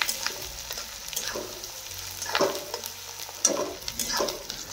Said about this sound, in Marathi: असं चांगला मिक्स करून एकसारखा कांदा भाजून घ्यायचा.